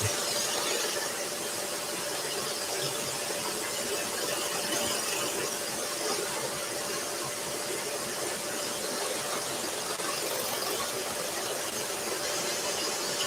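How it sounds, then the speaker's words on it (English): A scroll saw cuts through wood with a continuous, high buzzing drone from the rapidly reciprocating blade, steady and close throughout with no speech. "this is the only saw I would really allow my fingers to get that close to. The scroll saw."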